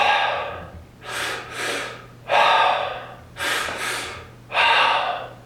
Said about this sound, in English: We breathe into the diaphragm first, we breathe into the chest, and then we exhale.